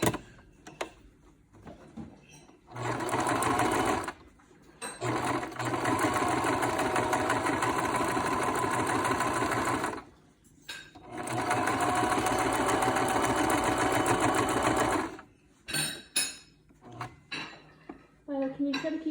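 A sewing machine runs a seam along the pleated edges of a homemade fabric mask, two long steady bursts of whirring stitching at close range, with short stops, fabric handling and faint voices between runs.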